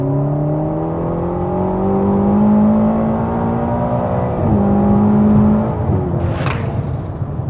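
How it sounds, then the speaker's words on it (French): A Ferrari GTC4 Lusso T with a 6.0 V8 of 610 hp runs in sport mode, its engine note rising through gears in smooth climbing pulls with a brief shift dip, loud from inside the car. "vous vous mettez en mode sport et là, quid du bruit du V8, allez,"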